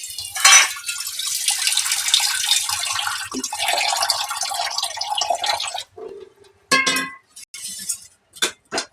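A hot cooking pot is set into a basin of water to cool while preparing dahi dapka sabzi, giving sloshing, splashing water and a few clinks of metal against the vessel, busy at first and then breaking into short separate splashes and drips.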